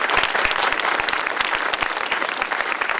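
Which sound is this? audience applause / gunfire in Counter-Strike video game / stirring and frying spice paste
audience applause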